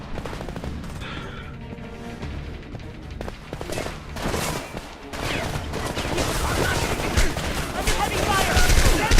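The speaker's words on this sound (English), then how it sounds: "Who is shooting me?" Video game gunfire from Homefront crackles in dense, continuous bursts of rifle and machine-gun shots, with combat noise building toward the end. A player talks over the shooting.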